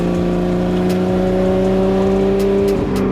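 A RUF hot rod Porsche engine runs at full throttle on a mountain road with a loud, sustained droning roar. Near the end the pitch shifts briefly as the revs change.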